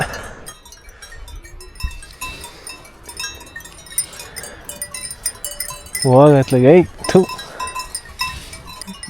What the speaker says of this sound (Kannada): ನೋಡಿ ಕುರಿಗಳು ಬಂದಿದ್ದಾವೆ